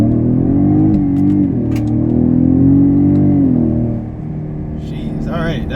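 A 2017 Ford Raptor pickup with a 10-speed automatic pulls hard, its engine droning and climbing steadily in pitch, then easing through a shift to a lower rumble, with a voice breaking in near the end.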